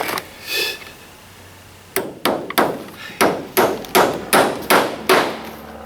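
Hammering nails: a rapid series of sharp, close metallic strikes in a steady rhythm after a brief pause, about a dozen blows.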